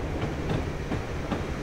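Simulated train in Train Simulator 2015 rolls along the rails, a low steady rumble with faint periodic clicks from the wheels, continuous and moderately close.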